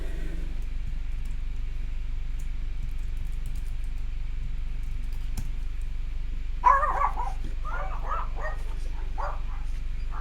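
A dog barks in a short cluster of sharp yips and barks partway through, fairly close but modest in level, against a steady low hum as a car passes by.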